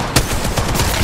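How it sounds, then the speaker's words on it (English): Gunfire during an Apex Legends Mobile battle, a loud close burst of rapid shots in quick succession, no voices over it. "Shots fired at me."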